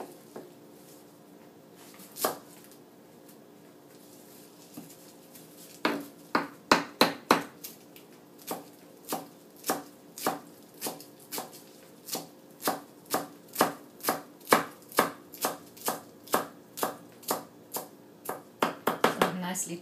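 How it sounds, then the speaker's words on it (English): A bunch of cilantro being chopped with a knife on a board, a few scattered cuts and then a fast, regular series of crisp knocks that grows denser toward the end. "So I take a nice bunch of cilantro,"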